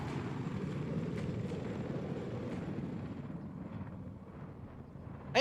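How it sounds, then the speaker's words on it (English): A helicopter flying in a 10v10 first-person shooter match, a faint, steady rotor drone with windy rumble that fades slightly over several seconds before a brief sharp click at the end. "Seeing some awesome helicopter flying there."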